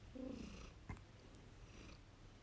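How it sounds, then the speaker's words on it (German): A male cat purring close by, a low steady rumble with a faint soft snort partway through, in a quiet room with no talking. "mein Kater schnurrt hier."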